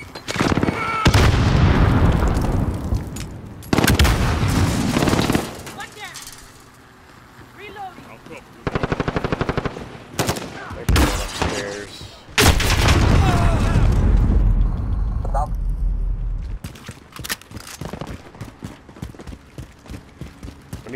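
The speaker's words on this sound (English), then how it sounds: "Grenade out." A grenade explosion and gunfire in Call of Duty MW, hardcore demolition mode, with several loud booms and sharp shots spread through the clip and players talking between them.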